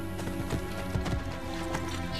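A horse gallops in the video game Assassin's Creed Brotherhood, with rapid hoofbeats thudding over a dense, loud game soundscape and no talking.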